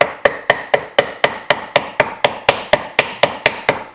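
A wooden stick taps gasket material laid over an air compressor part to cut a homemade gasket, producing about sixteen sharp, evenly spaced knocks in a steady quick rhythm, loud and close.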